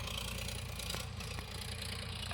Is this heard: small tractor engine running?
yes